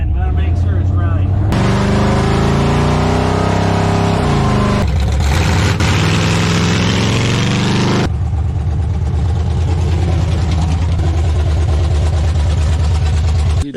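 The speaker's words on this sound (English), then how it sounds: "Breaking this engine in." A freshly installed car engine in its break-in run, loud and close, running steadily with a rough idling rumble and shifts in revving, the tone changing in distinct stretches, with faint voices under it.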